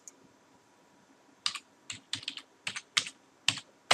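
A computer keyboard clatters as a single word is typed, with an irregular burst of crisp nearby keystrokes following a quiet start.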